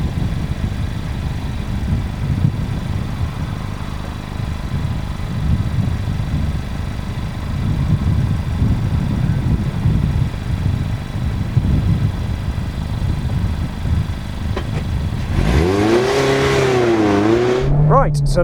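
A Mazda MX-5 RF drives with its roof down, its engine a steady mid-pitched drone under open-air wind rumble, with someone talking over it and a rising rev near the end.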